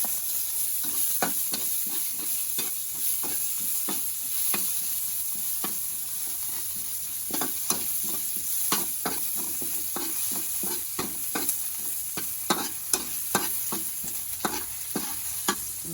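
Onions sautéing in a pan, with a continuous sizzle under rhythmic spatula clicks and scrapes that speed up and grow sharper toward the end, heard up close without talk.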